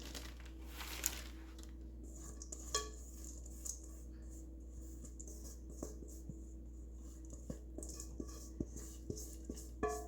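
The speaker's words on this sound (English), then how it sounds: "Now we're going to add our mixture right onto the sheet pan." A granola mixture being scraped from a bowl onto a parchment-lined sheet pan: quiet, soft scraping with sparse light clinks and taps of a utensil against the bowl, close by, without talk.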